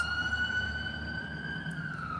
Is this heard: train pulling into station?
no